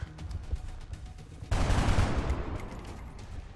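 A gunshot fires in XCOM: Enemy Within, a sudden burst midway that leaps from quiet game ambience into a loud, rumbling report and decays over the next couple of seconds.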